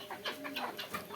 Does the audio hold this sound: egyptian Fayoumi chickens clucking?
yes